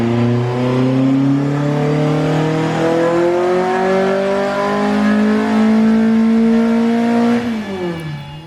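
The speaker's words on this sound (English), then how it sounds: "So the car made 175 at the wheels on Jason's rollers" A carburetted race car engine revs hard on a rolling road dyno, its pitch climbing steadily in one long loud sweep for about seven seconds before cutting back abruptly near the end.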